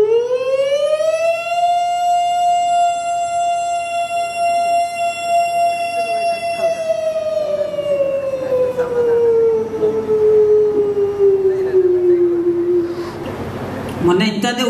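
A mimicry artist at a stand-up comedy show voices a siren, one long loud wail that rises, holds steady and slowly falls over about thirteen seconds before ending.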